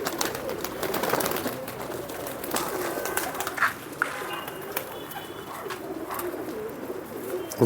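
Domestic pigeons kept by a longtime pigeon fancier in old Jammu city coo softly in a continuous background murmur, with occasional wing flutters and brief noises nearby.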